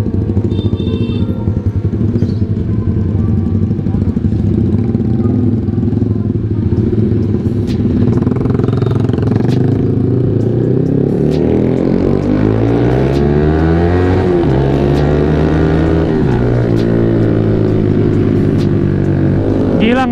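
A Yamaha R15 V3 motorcycle engine revs up loudly and close, its pitch climbing steadily through the gears as it speeds up, with steady wind rush and faint talk underneath.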